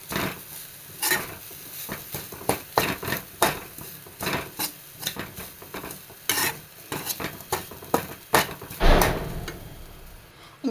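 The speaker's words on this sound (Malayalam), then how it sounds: "ഇങ്ങനെ നെയ്യ് ഒഴിച്ചിട്ട് ഇങ്ങനെ വറുക്കുമ്പോൾ നെയ്യിൻ്റെയും ഇതിൻ്റെ കൂടെ നല്ലൊരു മണം വരുന്നുണ്ട് കേട്ടോ" Grated coconut stirred and roasting in ghee in a pan for rice balls (ari unda), with repeated scraping and clinking of a utensil against the pan over a soft sizzle, fairly close and irregular, no talking.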